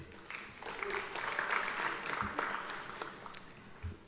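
Scattered applause from graduates at a journalism school graduation ceremony, a steady moderate patter of clapping in a large hall, fairly distant and even throughout with occasional sharper individual claps.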